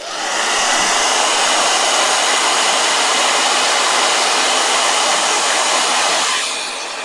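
A hair blow dryer starts up and runs at a steady, loud, even whoosh for several seconds, then cuts off near the end, with no talking.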